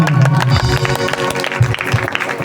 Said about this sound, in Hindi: जोरदार बजा ताली